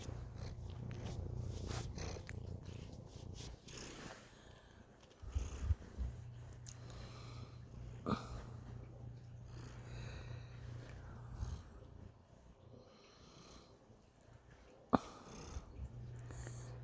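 A cat purrs softly and steadily up close, a low rumbling drone broken by a few snuffles and small knocks.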